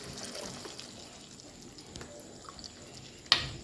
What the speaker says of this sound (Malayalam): ഒരു 1/4 കപ്പ് തേങ്ങാപ്പാൽ കൂടി ഇതിലോട്ട് ഒഴിക്കാം.